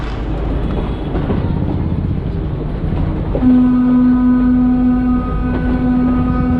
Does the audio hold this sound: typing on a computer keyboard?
no